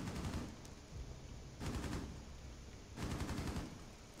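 Bursts of automatic gunfire from an in-game firefight on the Coastline map in Rainbow Six Siege, arriving as three loud sustained volleys roughly a second and a half apart over steady game ambience.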